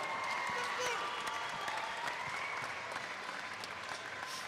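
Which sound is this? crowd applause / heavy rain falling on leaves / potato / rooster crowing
crowd applause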